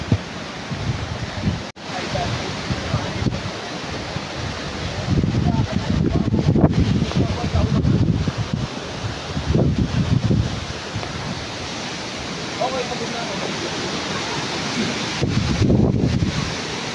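Strong wind on a hiking trail gusting against the microphone, roaring in repeated bursts of heavy low buffeting between calmer stretches, with faint voices in the background.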